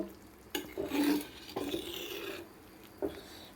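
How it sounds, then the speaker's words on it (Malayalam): A spoon stirs chicken curry with potato and coriander powder in a pot, giving several scraping, rubbing strokes with brief pauses between, soft and close over a faint simmer. "ഇളക്കിയിടുകയാണ്"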